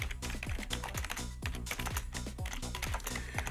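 Rapid typing on a computer keyboard, a dense close run of crisp key clicks in an uneven rhythm with no pauses.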